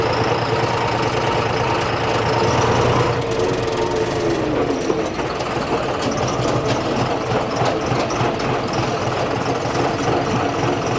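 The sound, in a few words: John Deere tractor engine running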